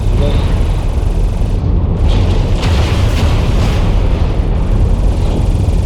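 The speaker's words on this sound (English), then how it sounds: "Artillery out." Artillery strike explosions in the MechWarrior Online video game, a loud continuous rumbling boom that fills the whole stretch with heavy low roar, with game voices and chatter mixed in.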